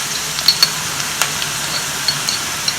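Chopped ingredients for a sambar curry sauté in a hot pan, giving a steady, fairly loud sizzle with a few brief clicks and ticks from stirring, close by and with no talking.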